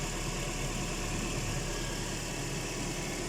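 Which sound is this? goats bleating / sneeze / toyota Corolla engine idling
toyota Corolla engine idling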